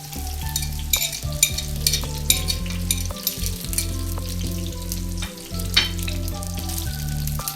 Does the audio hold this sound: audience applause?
no